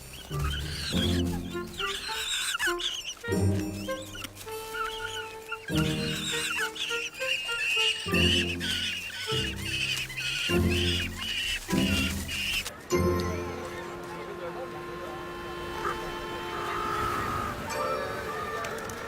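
Penguin chicks in a colony give repeated loud, harsh braying calls in rhythmic bursts, overlapping one another at close range, followed by a quieter spell of mixed colony noise.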